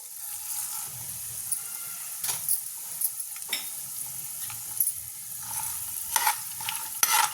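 Chana dal, urad dal and mustard seeds frying in oil for temple-style tamarind pulihora, a steady soft sizzle with occasional sharp scraping stirs and small pops, close and without talking.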